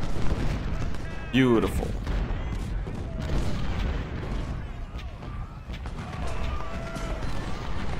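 Infantry volley fire in Ultimate General: Civil War rolls out as a low, rumbling boom of massed musketry amid battlefield din, with a person speaking briefly over it.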